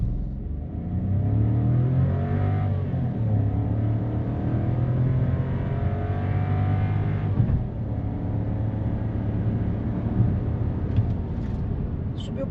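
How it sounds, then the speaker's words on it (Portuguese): A 2025 Volkswagen T-Cross Comfortline with the 200 TSI engine accelerates hard from a standstill, air conditioning on. A loud, steady engine drone climbs in pitch, drops briefly at a gear change around midway, then keeps pulling. "Vamos ver se o carro faz em menos ou faz em mais. Estolando, saindo."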